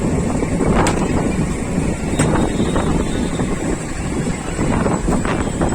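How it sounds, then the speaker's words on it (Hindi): Cool wind gusts and buffets against the microphone outdoors at Shopprix Mall in Vaishali, a steady loud rumble with a few sharper bursts and no speech. "ठंडी ठंडी हवाएं चल रही थी"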